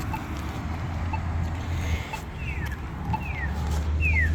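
A touchless crosswalk button at Campbell Ave gives short, faint electronic chirps, several repeated at intervals over low street traffic rumble.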